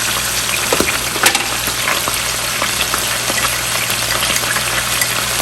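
Ground coriander sizzling in hot oil for a korma, a steady close crackling hiss with a few sharper pops and no voices.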